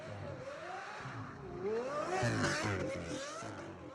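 A Lamborghini Aventador V12 revs hard while driving, its engine note sweeping up and down through several surging pulls that peak loudly in the middle, heard alone without talk.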